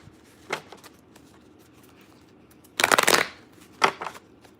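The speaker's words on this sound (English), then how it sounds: "Shuffle these cards up." Cards being shuffled close up: a brief riffle, then a louder, longer shuffle, followed by another quick burst, in an otherwise quiet room.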